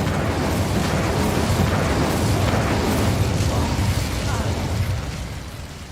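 A fire spell, Incendio, cast in Hogwarts Legacy: a loud, sustained fiery roar and crackle with bursting pops runs the whole stretch, easing slightly near the end.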